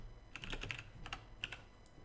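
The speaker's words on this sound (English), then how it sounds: "I've done a lot of typing during this" Computer keyboard keys clatter in quick bursts of typing, close-up and fairly faint, with short pauses between clusters of clicks and no voices.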